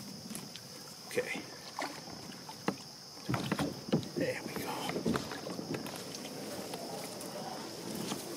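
Paddle strokes splash and knock against a canoe on the Squannacook River, irregular dips and thumps close by, with wind and faint background hiss.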